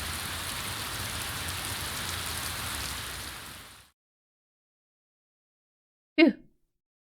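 Steady rain patters in a visual novel game scene as a soft, even hiss for a few seconds before cutting to silence, then a brief short blip near the end.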